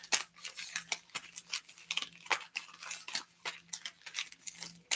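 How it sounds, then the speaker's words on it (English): Trading cards being shuffled by hand, a rapid run of crisp riffling and flicking bursts repeating steadily throughout, close and fairly quiet with a faint low hum underneath. "I'm going to shuffle my cards"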